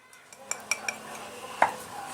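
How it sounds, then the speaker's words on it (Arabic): A utensil stirs cake batter for a corn cake in a bowl, producing a few crisp clinks and scrapes against the bowl, close and fairly quiet, with no talking. "واقلب برضو كويس لغايه لما الخليط كله يتجانس مع بعضه"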